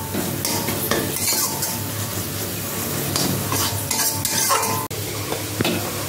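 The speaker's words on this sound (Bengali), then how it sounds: "সেরা কাঁচা লঙ্কা দিয়ে ভালো করে কষিয়ে নেব।" Green chillies stir-fried in a pan, with steady sizzling under repeated scraping and clinks of a spatula against metal, loud and close throughout.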